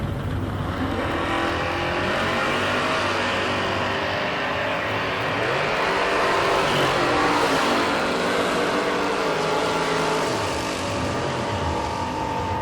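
Drag racing at the Northeast Sportsman Nationals, a 1980 Malibu and a Mustang launching down the strip, engines roaring steadily and loudly throughout with rising and shifting pitch, heard from trackside.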